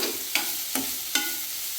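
Beetroot palya being stirred in a pan: three evenly spaced scrapes of a spoon against the pan over a soft continuous sizzle, close and clear, with no talking.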